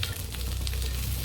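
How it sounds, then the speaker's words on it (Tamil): Fish frying in hot oil in a home kitchen, a steady, dense sizzle with crackling pops, close and continuous throughout. "மீன் நல்லா பொரிஞ்சிருச்சு"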